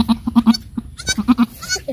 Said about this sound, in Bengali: ও হয়ে গেল বাচ্চা, বাচ্চা হয়ে গেল ছাগলের।